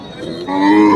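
A cow moos once at a cattle market, close and loud, a low drawn-out call that rises in pitch and lasts about a second.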